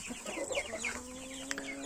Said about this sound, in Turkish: Bugün size yeni gelen tavuklarımızı gösterdik.